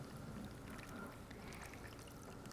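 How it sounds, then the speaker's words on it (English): Water is poured into a bowl of borax for a science mixing demonstration, giving a faint, steady, continuous pouring wash throughout. "then we're going to add the water"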